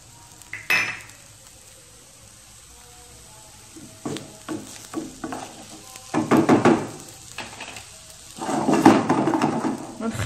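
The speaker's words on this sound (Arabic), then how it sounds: "نخليو البصله ديالنا تشحر مزيان" Onions with garlic fry in a pan while a utensil stirs and scrapes them, soft sizzling punctuated by clinks and louder scraping bursts, with some faint background voice.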